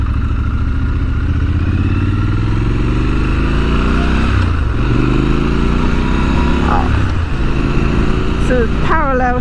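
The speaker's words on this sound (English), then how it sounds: "I love that sound when you open it up through the gears" A Triumph Scrambler 1200 XC Gold Line Edition's 1200 parallel twin engine pulls hard through the gears on a ride, its loud throaty drone rising in pitch, dropping at each shift, then climbing again, with wind roar throughout.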